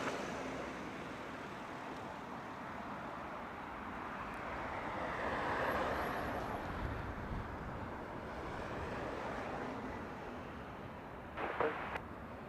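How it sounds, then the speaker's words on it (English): A Virgin Atlantic Airbus A330 touches down at Heathrow with heavy thrust reverser use. A faint, distant jet roar swells briefly in the middle over steady wind-like background noise. "Lots of reverser action there on touchdown from the Virgin A330"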